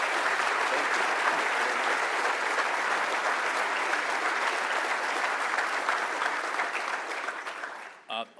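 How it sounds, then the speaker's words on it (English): Audience at a law enforcement officer awards ceremony gives sustained, loud, even applause for several seconds, then it breaks off abruptly near the end. "Another round of applause for both of them and the sergeant."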